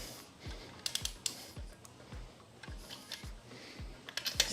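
Ratchet-like clicks from a breaker bar or wrench pulling a wheel stud through the hub of a Subaru BRZ, a steady series of close, fairly evenly spaced metallic ticks and thumps, quiet and without talk.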